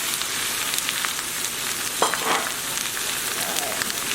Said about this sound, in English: let's add it on the frying pan.